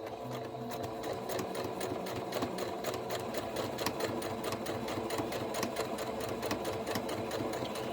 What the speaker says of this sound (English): then we'll just start stitching